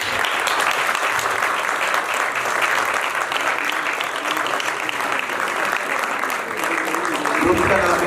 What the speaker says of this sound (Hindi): तालियां क्यों?